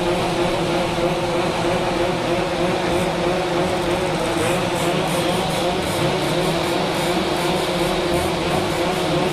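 Several Yamaha F1ZR two-stroke motorcycles gathered in Lampung give off a dense, loud, continuous buzzing drone, with engine tones holding steady throughout rather than rising and falling in distinct revs.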